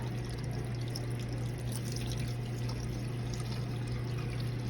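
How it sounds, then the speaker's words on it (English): Tap water runs steadily through a clogged part being rinsed clean, a constant close splashing flow with a low hum beneath it, no talk. "We're going to run water through it like that"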